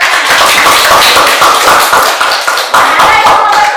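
Students in a classroom clap for a classmate, a loud, close patter of many hands in quick, uneven rhythm lasting several seconds.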